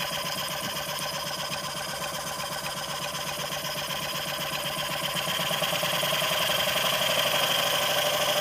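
A vintage brass mill-type steam engine runs on compressed air at about 22 psi, giving a fast, even mechanical chuffing and clicking rhythm close by that grows a little louder toward the end, with no voices.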